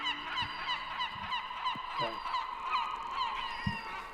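Gull-like birds honk and cry in a busy overlapping chorus, fairly close and continuous, heard as a sound effect during a tabletop role-playing session with no one talking over it.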